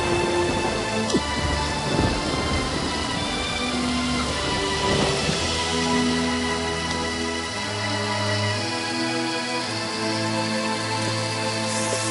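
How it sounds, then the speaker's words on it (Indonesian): Heavy rain pours down in a steady, loud, dense hiss, with a faint rumble of thunder, beneath sustained background music that runs throughout. "Kulihat hujan semakin deras."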